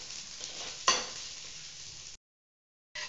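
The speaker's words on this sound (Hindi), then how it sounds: "अब इसे हम भून देंगे कढ़ाई में। हमें कढ़ाई में तेल देकर प्याज भून दिया है।" Finely chopped onions frying in oil in a kadai for soya bean curry, a close steady sizzle with a sharp clink of a utensil, broken by a brief silence before the hiss resumes.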